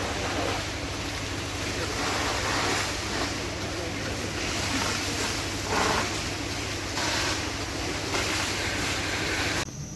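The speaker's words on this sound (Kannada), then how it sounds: "ಇಲ್ಲಿ ಕೂಡ ರೈನ್ ಗನ್ಗಳದ್ದೇ ಕಾರ್ಬಾರು, ಭಾಳ ಸೌಂಡ್ ಕೇಳಿ ಕೂಡ ಖುಷಿ ಆಗ್ತಾ ಉಂಟು" Rain guns spray water across a large coffee estate, a broad, continuous rushing hiss that swells and fades in repeated surges as the jets sweep past.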